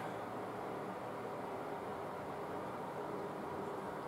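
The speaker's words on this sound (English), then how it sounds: "I apologize for the noise that you were hearing before. I have my fan on." A household electric fan runs steadily in the background of a makeup tutorial room, a constant, even broadband whoosh with no voices.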